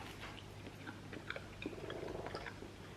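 Close, soft chewing of a homemade almond pastry, with moist crunchy mouth sounds scattered across a few seconds and no talking.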